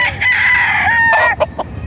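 A brood stag rooster crows once, nearby and loud, with a drawn-out strained call that breaks into a few short trailing notes at the end.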